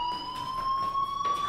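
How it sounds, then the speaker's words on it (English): A fire alarm rings in the game Life is Strange, a steady electronic tone held throughout with a faint pulsing underneath, alone and fairly loud. "do you hear that fire alarm?"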